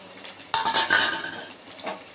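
A spatula stirs and scrapes a small medium-size chopped onion in two spoons of oil in a kadai, giving close metallic clinks and a soft sizzle, loudest just after the start and fading toward the end.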